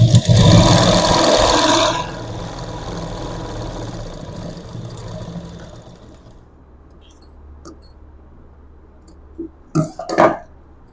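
A tailoring sewing machine stitching buttonholes runs loud and steady for about two seconds, then stops, leaving a quiet stretch with a few faint clicks and handling knocks near the end.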